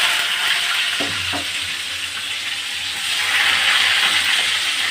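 Onions frying in a pan of hot oil after bay leaves went in, a steady close sizzle and hiss throughout with a couple of soft stirring knocks near the start.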